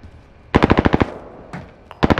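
Two sharp bursts of rapid video game gunfire ring out, seven quick shots, then a lone faint shot, then another quick volley, all against a quiet background.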